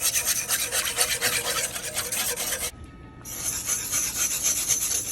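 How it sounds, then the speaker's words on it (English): A flat whisk scrapes rhythmically across the bottom of a pot of thickening cheeseburger soup, making close, rasping strokes. The scraping pauses briefly, then resumes at the same brisk pace. "I'm going to take one of these flat whisks and just whisk it while it thickens"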